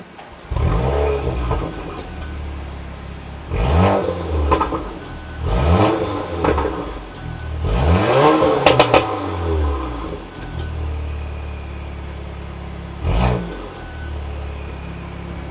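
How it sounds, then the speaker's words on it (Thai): Several loud exhaust roars as a Porsche Macan 2.0 SUV engine starts and revs in short bursts, with idling rumble between and a final brief rev. "เวลาสตาร์ทเนี่ยเสียงท่อมันจะเพาะมาก ๆ ครับ"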